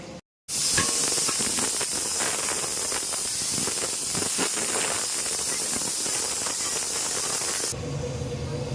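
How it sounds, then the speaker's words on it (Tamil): A pressure cooker with sambar rice inside vents steam in a loud, continuous hiss that runs almost unbroken, stops abruptly near the end, and leaves a quieter bubbling tail. "குக்கரில் போட்டு வேகுது"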